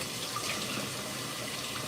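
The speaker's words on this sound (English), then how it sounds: "Let me go ahead and wash my hands real quick." Tap water runs steadily into a kitchen sink during hand washing on a small farm, a constant soft hiss with no talking over it.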